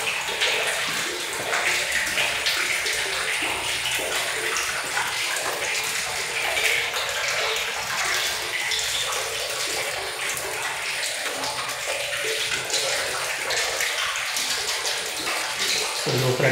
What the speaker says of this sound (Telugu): సో ఇలా వాటర్ ఫ్లో అయితే ఉంది చూడొచ్చు.